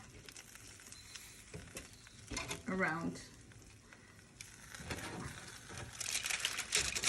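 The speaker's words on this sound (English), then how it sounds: "Wow, wow, now this is sizzling." Meat sizzles and crackles on a grill, a soft steady frying hiss with scattered pops and stirring clatter, joined by a few brief spoken words.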